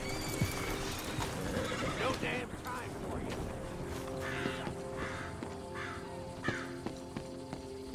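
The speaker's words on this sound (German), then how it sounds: "Wir binden mal unser Pferd regulär hier an." A horse in Red Dead Redemption 2 neighs and snorts amid clip-clopping hooves, crows cawing and ambient game sounds, with someone talking over it.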